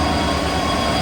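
British Rail class 66 locomotive 66039 pulls away at a Nottingham station, giving a loud, steady diesel drone and rail rumble close by.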